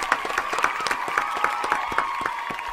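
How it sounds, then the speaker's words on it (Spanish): Studio applause closes a talk-show interview with a steady run of evenly spaced claps over a thin sustained tone, moderately loud and uninterrupted by speech. "los despedimos con este aplauso"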